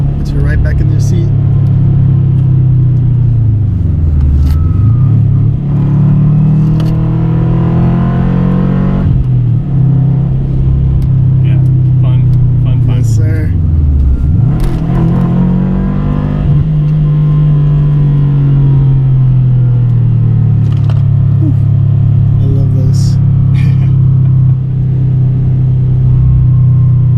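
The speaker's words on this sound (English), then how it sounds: "When the turbo kicks in, it's awesome. Puts you right back in your seat." A Subaru WRX turbo engine drones and rises in pitch through repeated acceleration pulls, a loud steady interior rumble with dips between gears, while people talk over it.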